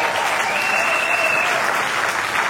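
Steady, dense clapping from a crowd at a civil wedding ceremony fills the room, loud and sustained throughout without a break.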